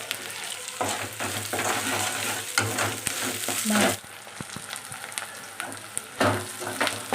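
Onion and ginger-garlic paste fry loudly on high heat as they are stirred vigorously, with a continuous close sizzle and spatula scrapes that pause briefly before resuming.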